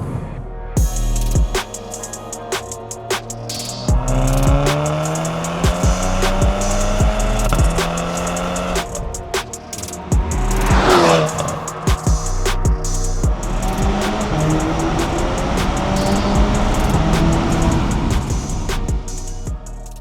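A car drives and accelerates hard, its engine note rising and falling through repeated gear changes with a loud, close pass near the middle, and no talk.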